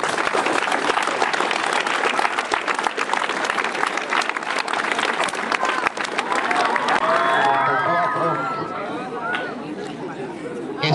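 Audience applause from the school community at a CETIS No. 94 ceremony marking the start of a roof arch construction, steady and dense clapping mixed with crowd chatter, with voices and shouts rising over it toward the end.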